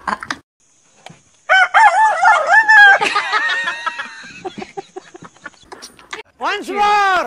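A person mimics a rooster's crow, with repeated wavering, strained calls between bursts of excited talk and laughter at a lively birthday celebration, the mimicry ending in a loud, close rising crow.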